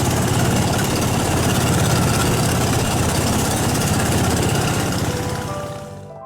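An outboard motor on a lake in Myanmar drones loudly and steadily at close range, a rough, buzzing engine roar that fades slightly at the end.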